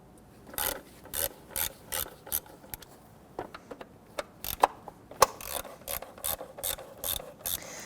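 A hand ratchet loosens 10mm timing cover bolts on a 1992-1996 Toyota Camry 2.2L four-cylinder in short bursts of rapid clicking, close and crisp, with a few sharper metallic ticks between strokes.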